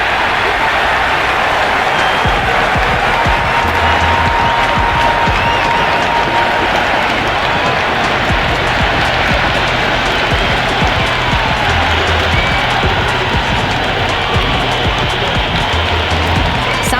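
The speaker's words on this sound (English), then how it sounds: "It's the most enthusiastic crowd you could ever see right now. There's a buzz, a real buzz coming from the stands." Dense, steady roar of a stadium crowd cheering and applauding at a T20 cricket match at Eden Gardens in the video game Cricket 26, loud and continuous throughout with no pauses.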